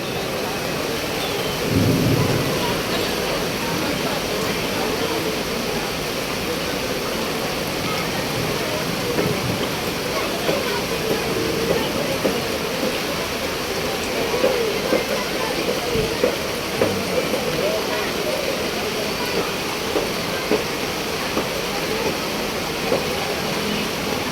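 Heavy storm rain pours down around a busy roadside food business, a constant loud hiss throughout with faint voices underneath.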